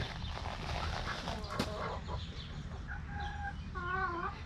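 Hens cluck and murmur close by in a busy barnyard, with a few higher drawn-out calls near the end over a low background rumble.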